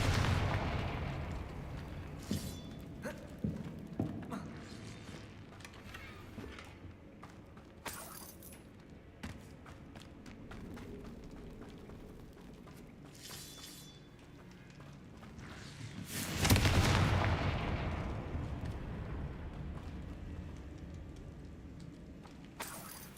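Confringo blast spells exploding in the video game Hogwarts Legacy, a series of sharp booms and crackling impacts scattered over a rumbling background, with one large louder blast late on.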